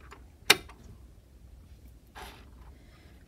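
A bobbin case clicks into place in a sewing machine: one sharp, close mechanical click, followed a moment later by a softer brief rustle, with quiet room tone and no talking.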